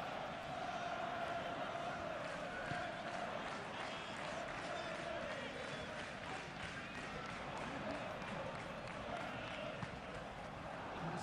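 Football stadium crowd at a Premier League match reacting with steady applause and a broad roar after some defending, distant and sustained, with a commentator talking over it.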